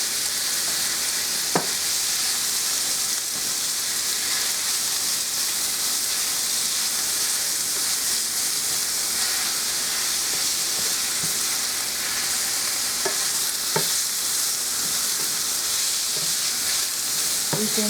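Ground meat frying in a pan, a constant loud hiss of sizzling fat with a few sharp clicks of a utensil stirring now and then, close and with no voices.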